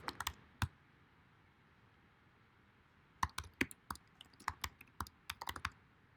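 A SQL drop-table command is typed on a computer keyboard: a few quick keystrokes, a pause, then a fast, uneven flurry of crisp clicks, close and clear with no talking.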